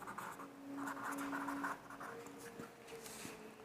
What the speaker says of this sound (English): I'll write this up for you.